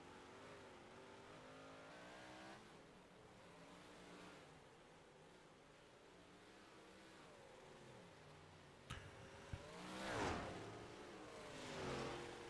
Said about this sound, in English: You guys can hear the cars out on the track.